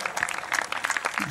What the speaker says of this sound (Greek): Σταματάμε χειροκρότημα